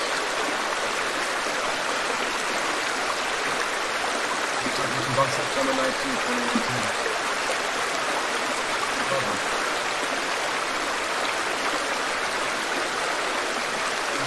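A mountain stream in Sochi, Russia rushes and gurgles steadily with a broad, constant wash of water, close by, while someone talks over it.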